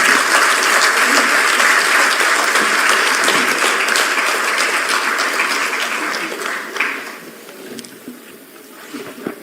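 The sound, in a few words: audience applause at a book launch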